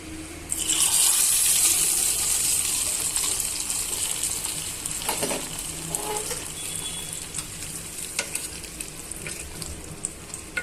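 Hot oil tempering for spinach dal sizzles loudly and close up, a dense crackling hiss that flares at the start and then holds steady with scattered sharp pops throughout, no voices.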